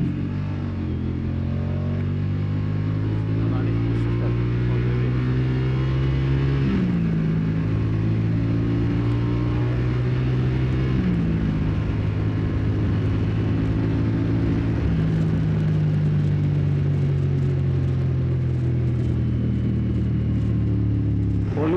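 A 2024 Moto Guzzi Stelvio motorcycle engine drones loudly and steadily on the road, with the rumbling pitch climbing through repeated gear changes as it accelerates, no talk over it.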